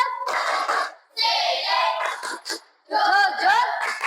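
A class of children in an Islamic religious education lesson perform a rhythmic clapping chant in unison, with bursts of chanted voices and hand claps separated by short pauses, close and fairly loud.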